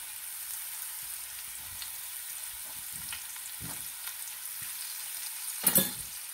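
Asafoetida and grated ginger fry in oil with a soft, steady sizzle, a few faint stirring clicks and one brief louder scrape near the end.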